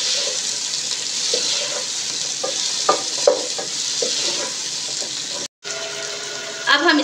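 Chicken balls are stirred and mixed in a frying pan, a close sizzle broken by scraping and clinking spoon strokes, with a short pause and a faint watery splash near the end.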